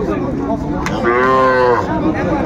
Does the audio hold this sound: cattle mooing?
yes